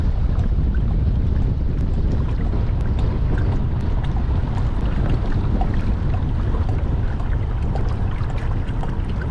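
Strong wind buffets a kayak fitted with a trolling motor on open water, making a loud, steady roar of gusts and microphone rumble throughout, with no voices.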